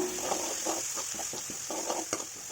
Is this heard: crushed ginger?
yes